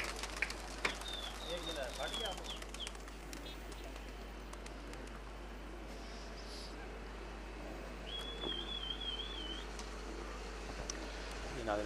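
Pigeons from a hobbyist's backyard loft fly and coo outdoors, with soft cooing and occasional wing flutters set against steady ambient noise and a couple of thin whistling tones.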